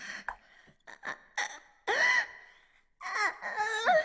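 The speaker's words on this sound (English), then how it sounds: "all that could be heard were the sounds of Ayase's labored breathing and the metal groans of the chair" A girl's labored, gasping breaths and strained moans in the visual novel Chaos;Head Noah, short uneven gasps building into longer wavering, whimpering voiced moans, close and intimate.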